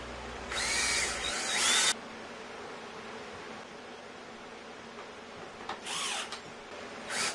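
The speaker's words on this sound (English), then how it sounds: "I first drill countersink holes so the screws can go in nicely" Power drill boring countersink holes into 3/4-inch scrap particle board: two short whining bursts, one long at the start and one brief near the end, with quiet room tone between.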